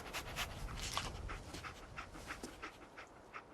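A dog panting in the video game Fallout 4, quick rhythmic breathy huffs that are faint and fairly close, with no talk over them.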